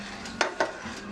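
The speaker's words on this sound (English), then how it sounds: "Stir, stir, stir, stir, stir." A spoon stirs a chicken tetrazzini mixture in a pot with two quick, close scraping strokes over a low, steady simmer.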